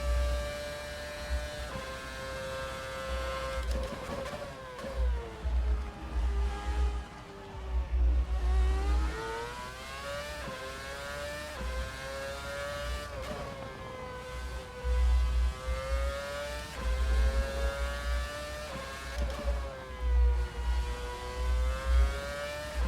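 A Lotus race car engine in a sim racing game, loud and close, with a high droning note that climbs through the revs, drops at each gear shift and climbs again, continuous and with no talking.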